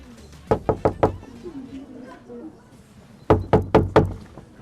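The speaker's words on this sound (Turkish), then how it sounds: "Ben mi çalayım kapıyı dayı?" Knuckles rap on a door in two close, loud sets of four quick knocks, separated by a pause filled with faint talk and room noise, at a home visit in Çorum.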